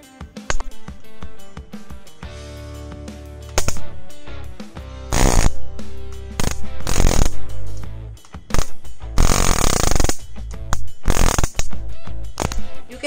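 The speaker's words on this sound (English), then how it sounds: "as I draw the wires farther away from each other, the arc stops" A homemade 10kV taser powered by a 9-volt battery throws crackling electric arcs between closely spaced wires, loud harsh bursts switching on and off in irregular pulses with short gaps between.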